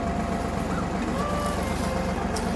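A tractor engine runs steadily nearby on a cold winter farm building site, a constant low mechanical rumble with a faint whine throughout, and no voices.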